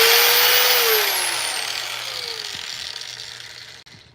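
A chainsaw carving wood into a Steve from Minecraft figure screams loudly at high revs close by, then its whine drops steadily in pitch as the engine winds down over a few seconds before a final clunk.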